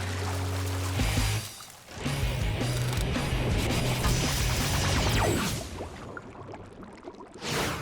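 Water pours and rushes steadily through a gravity boat channel built for a science show, a loud continuous splashing flow that cuts off briefly and then ends near the close.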